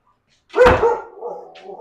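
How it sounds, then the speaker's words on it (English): A single dog gives one loud, close bark that trails into a brief whining tail, standing out sharply after a moment of silence. "Got dogs barking."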